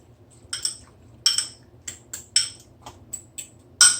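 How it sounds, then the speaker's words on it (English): Spoon clinking against a bowl while orange is stirred into apple peach turnover filling: about eight bright, distinct taps at an uneven rhythm, close and fairly loud, with no talking. "I'm just going to mix that up."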